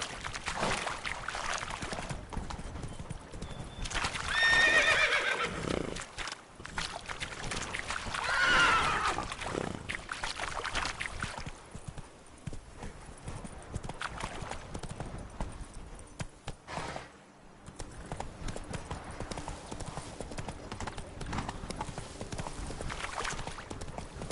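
A video game horse clops along with hoofbeats and lets out two loud neighs, set against ambient background noise.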